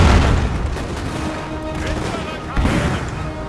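In Napoleon: Total War, an artillery barrage thuds through a battle scene, with a rumbling string of booms and scattered gunfire in continuous, dense volleys.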